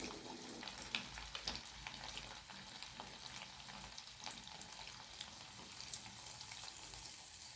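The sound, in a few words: paniyaram frying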